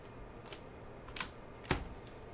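A few scattered keystrokes on a computer keyboard, close and fairly quiet, with two sharper clicks standing out against a soft background hiss.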